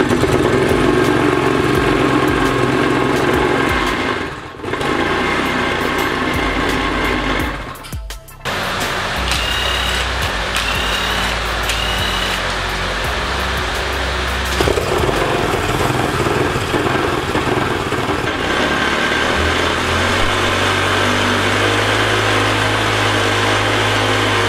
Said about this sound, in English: We got ourselves a running engine